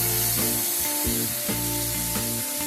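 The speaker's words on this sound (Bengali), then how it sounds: "এবার টমেটোকে খানিকক্ষণ একটু রান্না করে নেব যাতে টমেটোটা সফট হয়ে যায়।" Salted tomatoes cook in a hot pan, giving a steady loud sizzle and hiss of frying, with a faint rhythmic tonal undertone repeating every half second or so.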